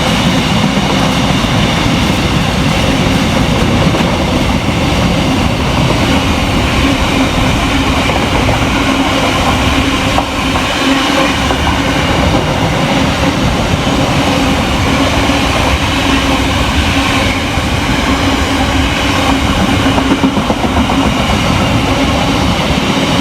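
A Class 66 diesel freight locomotive hauling wagons passes through Dorridge station with a loud, continuous engine drone and a rolling rumble that holds steady throughout, with no voices.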